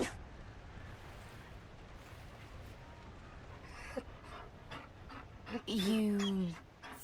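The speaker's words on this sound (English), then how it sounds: "You found a dog?" A mabari war dog in the Dragon Age: Inquisition video game pants quickly over ambient background, followed near the end by a short whimpering whine, with speech nearby.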